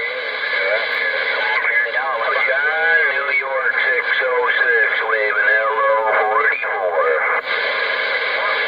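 Band-limited radio hiss and crackle on a CB channel of an RG-99 radio fill the sound with garbled, warbling voices underneath, steady and fairly loud throughout.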